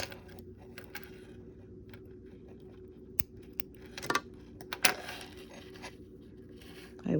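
A few quiet, sharp snips of small scissors cutting yarn while crocheting a granny square, scattered over a faint background with light rustling handling sounds.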